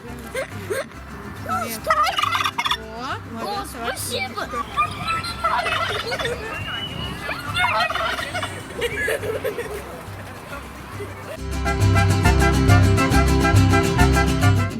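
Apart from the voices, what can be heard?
turkeys gobbling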